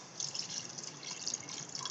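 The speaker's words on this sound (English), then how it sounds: "I have to add some water, so" Water poured into a cooking pot of frying chicken makes a short, continuous splashing and trickling sound.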